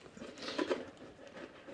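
Steady rain pattering outdoors on a Friday morning in Wales, a soft continuous wash of drops with a few closer taps, fairly faint throughout with no talking.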